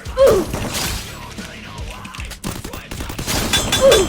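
Gunfire crackles in the mobile shooter game Free Fire as bursts of shots and sharp impacts pile up. The shots are loud and close, with a quieter stretch between the bursts.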